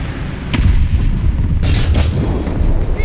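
Tiger II tank firing its cannon in the War Thunder game: heavy low rumbling booms, one sharp blast partway through and another big crack followed by continuous battle rumble, loud and close, with no speech.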